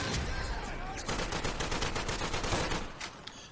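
Rapid bursts of automatic gunfire from a Bren or Lewis light machine gun in the WWII shooter Day of Infamy, loud and close, raking continuously for several seconds before tapering off.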